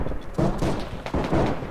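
Rifle fire in a World War One battle in Arma 3 rings out as several heavy booming shots close together, with distant rumbling reports filling the gaps.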